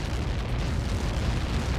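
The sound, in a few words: explosion of a missile impact in the video game Ace Combat 7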